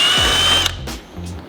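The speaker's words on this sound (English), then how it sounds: "We are going to have to drill some holes." A power drill whirs steadily for about half a second while holes are drilled during work on a Subaru 22B clone, then cuts off, followed by a couple of fainter brief mechanical sounds.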